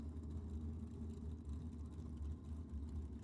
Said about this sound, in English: Let's see if I got a replay of Papacosta's Capri leaving the start line there.